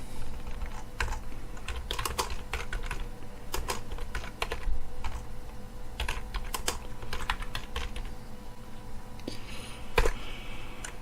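Steady typing on a computer keyboard while entering code and text for an SMS routine on a SIM900 GSM module, with irregular clusters of close, crisp key clicks and no talking.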